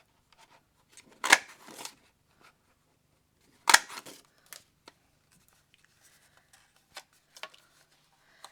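Scissors snip through sheets of patterned 12 x 12 craft paper while shapes are cut out for card making, giving a few sharp, close crunching cuts separated by quiet pauses and faint paper rustles.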